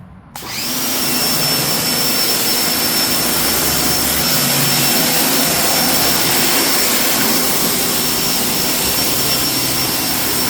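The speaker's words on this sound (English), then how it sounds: "This is the gun to the pressure washer." Steady, loud roaring hiss of a pressure washer gun spraying a dirty patio floor, starting abruptly and running unbroken with a faint high whine over it.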